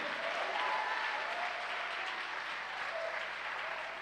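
Church congregation applauding during worship, a steady wash of many hands clapping at moderate distance, fairly faint and even throughout.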